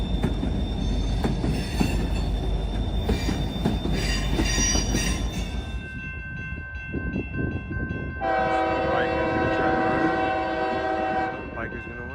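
A Rio Grande Pacific freight train rolls past close by with a loud rumble and rattle of cars, then sounds a long, sustained horn blast before fading.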